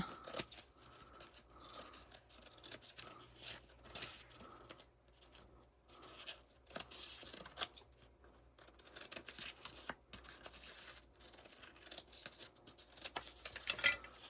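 Scissors snipping and trimming vinyl fabric scraps for a custom pack, a run of close, crisp cuts with short pauses between them and no talking.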